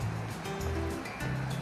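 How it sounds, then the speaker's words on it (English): Water flowing down from Gunlock Reservoir rushes in a steady, dense wash of broadband noise, close and continuous throughout. "this water flows down from the Gunlock Reservoir"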